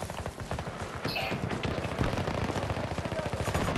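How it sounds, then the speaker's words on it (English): Rapid automatic gunfire in the shooter game Battlefield 2042 during an attack on the Orbital map, a dense run of close bursts with fainter shots behind. "I hear the shots."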